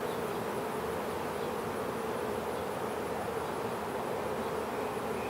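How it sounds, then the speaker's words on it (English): A honeybee mating swarm comes in to land, a dense, steady buzzing hum of many bees filling the air at moderate level throughout, with no voices. "Told you this was a little mating swarm was going to land."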